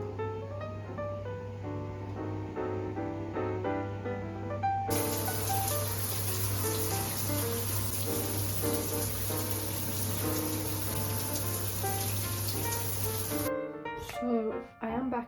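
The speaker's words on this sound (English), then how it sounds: "I am now ready to go and take my shower and get rid of the day." Shower water runs with a steady hiss that starts partway through, continues for several seconds, then cuts off abruptly, with soft music playing underneath.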